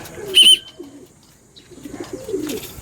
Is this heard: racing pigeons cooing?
yes